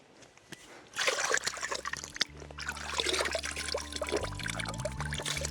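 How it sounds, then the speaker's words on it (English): Freshwater creek at Wangulba Creek on Fraser Island flowing steadily, a close trickling and splashing that swells after a quiet start and runs on continuously, with a low hum underneath. "the Wangulba Creek where we are never stops flowing"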